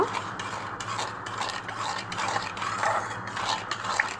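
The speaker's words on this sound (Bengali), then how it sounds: "এই লবণ আর হলুদটাকে ভালো করে মিশিয়ে নেব।" Salt and turmeric being stirred into boiled, cooled oil for a sour pickle, a steady close scraping and clinking of a utensil against the container that carries on without pause and without any voices.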